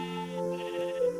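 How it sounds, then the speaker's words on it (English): A sheep on a sheep farm in the Minecraft video game gives a single wavering bleat, clear and close, lasting just over a second with nothing else around it. "Yeah, so I got a little sheep farm here going for"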